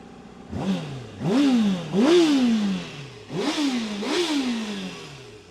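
A Honda CBR600RR sport motorcycle with about 26,000 km revved repeatedly near the microphone, four sharp throttle blips that climb quickly and fall back to idle.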